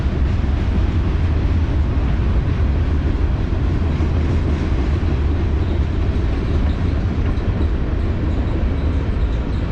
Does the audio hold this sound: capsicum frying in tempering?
no